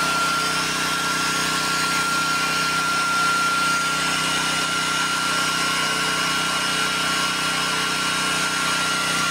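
A Toyohama 3500i 3.5 engine runs steadily during a test, giving a constant, loud mechanical drone with a high whine and no pauses.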